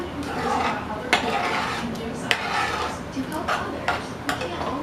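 A spoon stirs thickened chicken and dumplings in a pot, scraping softly with several sharp metallic clinks against the pot's side spaced a second or so apart.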